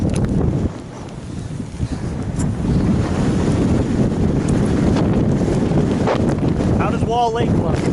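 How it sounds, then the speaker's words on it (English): Strong wind buffets the microphone on a mountain ridge during a backpacking hike, a loud continuous roar with gusty surges and low rumble, and a brief voice near the end. "It's a little windy up here."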